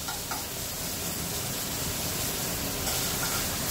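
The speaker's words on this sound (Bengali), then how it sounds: "এবার আমি ঢাকনাটা খুলে মশলাটাকে আরেকবার নাড়াচাড়া করব।" Spice masala sizzling and being stirred in a pan for aloo paneer sabzi, cooked in little oil with the lid just lifted, a dense steady hiss with soft scraping of the stirring, close and fairly even.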